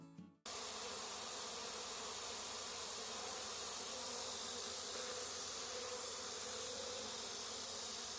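A dense, steady hum of honeybees in a hive as they ball a new queen, continuous and close after a brief handling noise at the start, with no voices.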